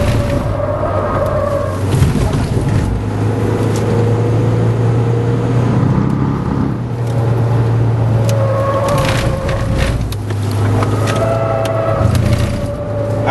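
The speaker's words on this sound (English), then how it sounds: "I'm sure you guys can hear all those screeching sounds made by the tire." Mahindra XUV500 driven hard on the BIC F1 race track, a steady loud engine drone with squealing tires rising and falling throughout as the SUV works through the corners.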